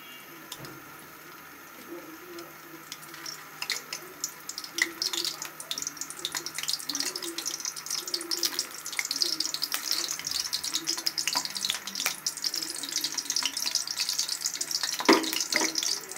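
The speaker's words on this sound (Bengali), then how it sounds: "এখন আমরা তেলে ভেজে নেব।" Semolina rasgulla sweets frying in hot oil, a steady low sizzle with irregular bubbling crackles and pops that grow busier and louder, with a brief sharper clatter near the end.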